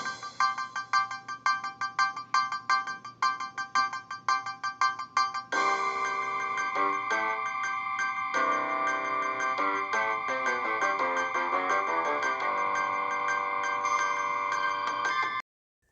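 Thin, tinny synthesized MIDI music played through the small built-in speakers of an HP T5700 thin client running Windows XP Embedded, starting with choppy plucked notes before a fuller, sustained melody fills in.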